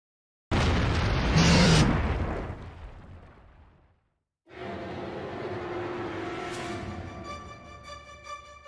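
A giant sandworm approaches in a video game, first as a loud, deep roaring burst that fades into rumbling, then after a brief silence as a sustained low, grinding rumble.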